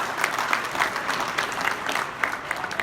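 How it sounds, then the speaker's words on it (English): A banquet audience at a cattlemen's convention in Kentucky breaks into applause, a dense, even wash of many hands clapping at close range that lasts the whole stretch with no talking over it. "let's give them a round of applause"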